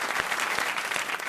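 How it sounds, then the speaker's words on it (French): Studio audience applauding on a French radio game show, a dense, steady wash of clapping filling the whole short moment. "On vous applaudit."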